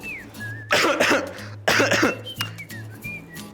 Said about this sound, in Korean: 방금처럼 기침을 하면